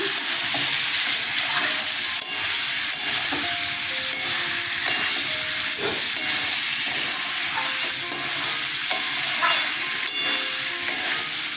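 Pointed gourd and potato pieces fry in a pan with a loud, continuous sizzle and hiss close by. Occasional stirring clinks sound over the frying and no one speaks.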